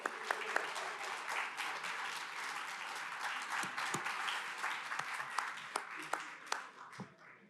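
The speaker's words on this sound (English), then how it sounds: "It's okay, you can applaud." City council chamber audience applauding players and coaches of a winning youth sports team, a fairly quiet, steady patter of clapping with a few sharper individual claps standing out.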